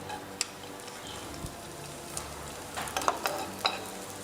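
Onion frying in olive oil in a pan for a ratatouille, a soft steady sizzle with occasional sharper crackles and light stirring clicks, faint and close.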